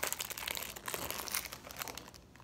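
Plastic packaging is pulled off frozen pita bread, a close, quiet run of crinkling and crackling rustles that fades toward the end, with no voices.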